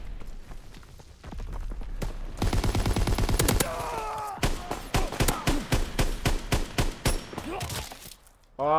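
Call of Duty WW2 gunfire, a dense rapid automatic burst followed by a string of separate shots fired in quick succession, loud and close, with game ambience underneath.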